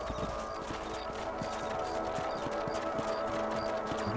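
Steady clip-clop of horse hooves while riding in Red Dead Redemption, an even trotting rhythm close and clear under a constant ambient bed, with no talk.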